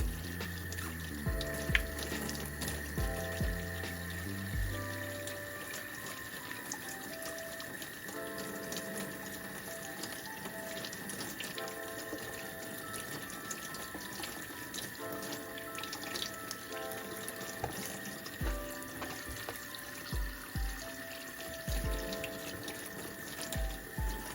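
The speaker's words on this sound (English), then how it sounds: "And then we're gonna turn the water on." Water runs steadily from a tap into a sink, a constant rush with occasional clinks and knocks of lip gloss tubes and applicators handled under the stream.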